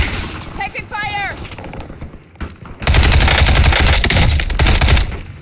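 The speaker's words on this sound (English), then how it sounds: "Taking fire!" Sustained automatic gunfire roars in Call of Duty: Warzone on the Haven's Hollow map, coming in dense loud bursts after a character voice calls out in combat.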